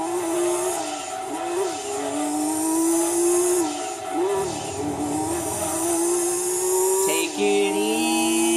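Race car in the Gran Turismo 2 video game, its engine droning steadily with pitch sweeps and rising revs as the rear tires spin and squeal, a brief voice cutting in over the loud continuous roar.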